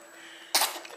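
A single sudden sneeze bursts out after a quiet moment, sharp and breathy, trailing off quickly.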